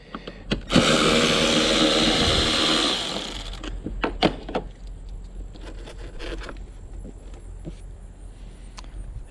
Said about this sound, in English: It's got two 10mm bolts holding it